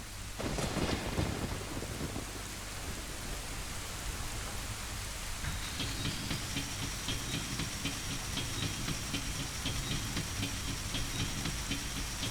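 Thunderstorm with steady heavy rain in The Legend of Zelda: Ocarina of Time, a deep thunder rumble opening the scene, then a continuous loud rain wash with a brighter patter joining partway through.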